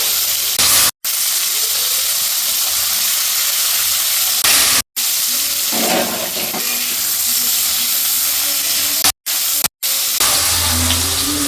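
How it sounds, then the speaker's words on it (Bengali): Potatoes frying in hot oil for a Bengali vegetarian potol posto, giving a steady hissing sizzle that runs almost continuously, broken by a few abrupt short gaps. "মধ্যে আলুগুলো ভেজে নিচ্ছি"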